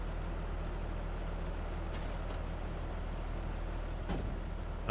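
Tractor unloading in Farming Simulator 22, a steady low engine drone with a constant mechanical hum throughout and a brief clank near the end.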